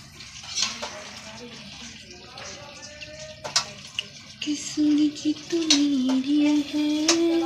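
A vegetable curry sizzles and bubbles in a pan on a gas stove, with stirring scrapes and clinks of a utensil against the pan, growing louder and steadier toward the end, with a little background voice.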